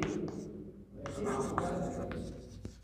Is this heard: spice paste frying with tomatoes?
no